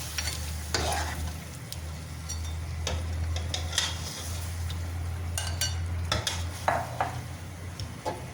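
Shredded meat goes into a hot pot and is stirred, sizzling and frying steadily while a spoon scrapes and clinks against the metal in repeated close, sharp strokes over a low hum.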